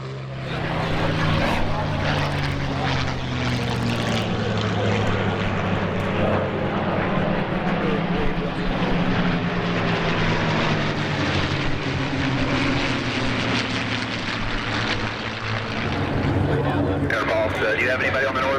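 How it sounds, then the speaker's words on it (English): World War II warbird fighter planes fly past at a 2019 airshow, their propeller engines droning loud and steady throughout, rising and falling as they pass, with faint voices in the background. "let you enjoy the sound of these wonderful fighters in action"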